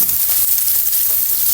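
Ground meat sizzles steadily in a hot pan for a vegetable dish, a close, continuous frying hiss with no talking.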